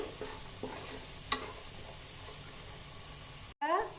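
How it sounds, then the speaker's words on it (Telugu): Cumin and coriander powder fry in oil for Guntur-style chicken biryani, a soft continuous sizzle broken by a few stirring clicks, then a brief dropout and a louder scrape near the end. "జీలకర్ర పొడి, ధనియాల పొడి వేసేస్తున్నానండి. ఇవన్నీ బాగా వేయించుకోవాలండి."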